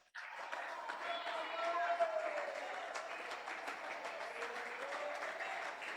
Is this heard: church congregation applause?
yes